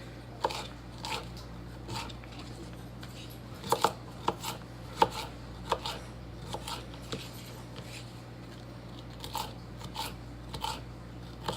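Jalapeños cut with a paring knife, a quiet background of irregular short crunchy chops and taps on a board, some in quick clusters, over a low steady hum.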